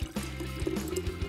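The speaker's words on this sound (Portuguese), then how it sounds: "Agora, vamos colocar a água oxigenada no recipiente." Hydrogen peroxide, about 400 millilitres, is poured into a container, giving a short close liquid gurgle and splash with a few bubbly, hollow pulses and no talking.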